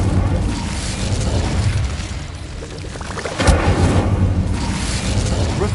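An Incendio fire spell in a wizard game goes off with a loud whooshing burst and a deep boom midway, then crackling fiery rumble under a continuous roar of ambient noise, with no talk.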